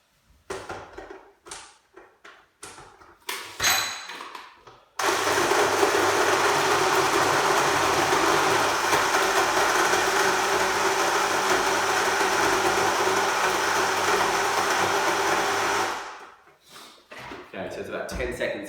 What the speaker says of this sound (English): that loud noise was the dates getting grounded up